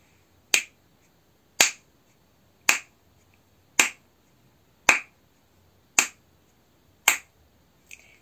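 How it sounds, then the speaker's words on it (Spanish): Seven sharp, evenly spaced hand claps, roughly one per second, ring out alone and close during a children's action song with marching and fist movements. No one talks over them. "Ahora vamos a aplaudir."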